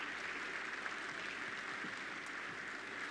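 An audience applauds at the Africa Cup of Nations draw ceremony in Gabon, a faint, steady patter of clapping from a distant crowd with no voices over it.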